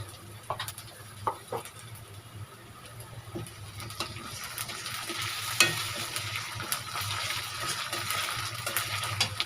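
Onions frying with garlic paste and ginger paste in a pan, a low steady sizzle with scattered spoon clicks and stirring scrapes that grows busier toward the end, close, with no talk.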